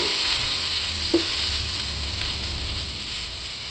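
Two medium onions, finely chopped, frying in hot oil with fenugreek seeds for a Kerala fish head curry, giving a steady, close, even sizzle with a brief stir-like knock partway through and no talking.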